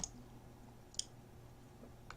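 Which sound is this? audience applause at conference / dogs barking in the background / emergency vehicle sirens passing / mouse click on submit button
mouse click on submit button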